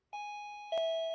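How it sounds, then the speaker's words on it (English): A BLUEbits wireless alarm system doorbell chime sounds indoors as a clear two-tone ding-dong, each electronic tone ringing out sustained and fairly loud. "That's the doorbell."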